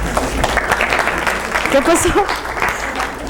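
An audience at a lecture on evolutionary game theory breaks into steady applause, with someone speaking over the clapping close to the microphone.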